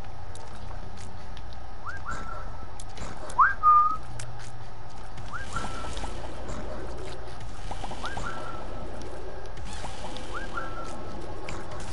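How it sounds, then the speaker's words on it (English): A person whistles short, rising two-note phrases repeatedly over a steady background hum, with an occasional louder chirp, during a playthrough of the game The Binding of Isaac. "Stop whistling. You don't sing well."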